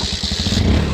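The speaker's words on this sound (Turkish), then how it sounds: "Evet, ayak marşıyla böyle çalışıyor." Mondial KD motorcycle engine kick-started and running, a close, loud rhythmic low thumping that settles into a steady, fast idle putter alone without talk.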